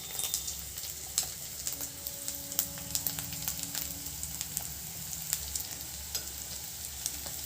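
Cumin powder and spices frying in oil in a pan, a soft, steady sizzle with scattered crackles and light stirring scrapes, fairly quiet and close, with no voices.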